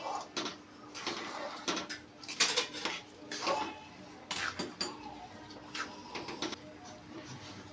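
Jaggery being mixed into a methi pakwan mixture brings repeated spoon clinks and scrapes against a pot in uneven bursts, close and fairly loud, with no one talking.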